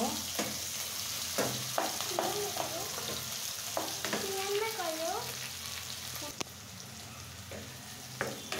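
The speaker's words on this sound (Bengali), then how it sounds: "এখন আমি কাঁচা লঙ্কা পেঁয়াজ কুচি দিয়ে দিলাম একটু বেশি করে।" Green chillies and chopped onion fry in a pan with a constant close sizzle, punctuated by scraping stirs and spatula knocks, while a voice speaks briefly over it.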